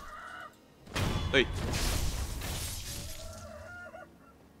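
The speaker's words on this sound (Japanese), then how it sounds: "ニワトリさん" A chicken in the video game Sekiro: Shadows Die Twice gives a short, rising squawking cluck inside a loud burst of crashing game noise, while someone talks briefly.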